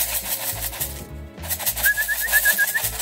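Young racing homing pigeons coo close by as they return to the loft after a long training release, soft repeated calls over a steady outdoor background with no talking.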